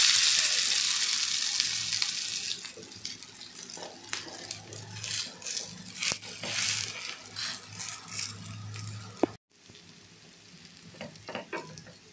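Cabbage bhanole fries in hot oil in a pan, a close, steady sizzle with stirring and flipping clatters, briefly cutting out before resuming more quietly.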